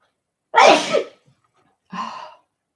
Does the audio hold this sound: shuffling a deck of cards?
no